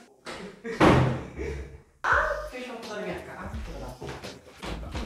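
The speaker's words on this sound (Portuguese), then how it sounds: "Tu vai fechar a porta na minha cara" A door at home slammed shut: one sharp, heavy bang partway through, with loud voices arguing before and after it.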